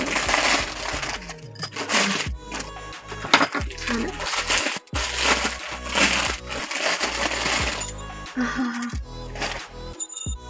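Bangles from an online unboxing, of unknown material, clink and jangle repeatedly as they are handled, sharp bright rattles coming in bursts, close to the listener.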